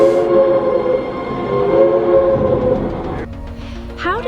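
A steam locomotive runs in a dramatized Great Locomotive Chase scene, a loud steady rumble under sustained whistle-like tones that shift abruptly near the end.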